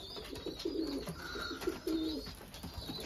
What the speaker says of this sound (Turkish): Şimdi yavru güvercin yanına gidiyorum.